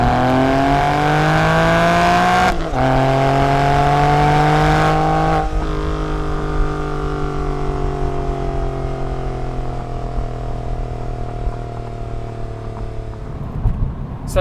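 A Porsche 911 Targa engine accelerating on a UK public road, a loud revving roar climbing through the gears with clear pitch drops at each shift, then settling into a steady sustained drone.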